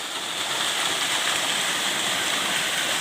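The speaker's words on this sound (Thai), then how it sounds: "น้ำตกครับนี่ นี่ไหลมาจากเทือเขา" A mountain-fed waterfall tumbles over rocks with a loud, steady, full roar of rushing water, close by and unbroken, with no one talking.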